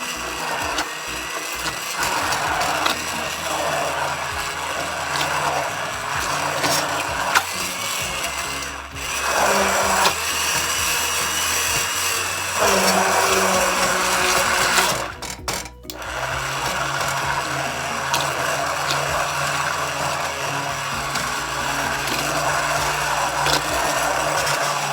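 A blender steadily purees warm butternut squash soup in a pot on the stove, a continuous loud motor whir with slight shifts in pitch and load throughout.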